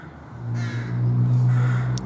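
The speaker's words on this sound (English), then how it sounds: "Listen to either the crows or the ravens." A crow or raven near Kirkwall in Orkney, Scotland gives a single drawn-out harsh caw, loud and close, holding for about two seconds.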